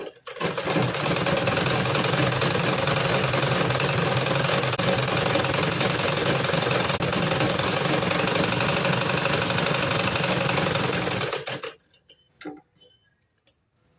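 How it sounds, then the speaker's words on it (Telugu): A sewing machine stitches a blouse neck piece in one long, loud, continuous run of rapid mechanical chatter, stopping near the end and followed by a few faint handling clicks. "ఇంకా చివరి వరకు కుట్టు అనేది కుట్టేస్తాను"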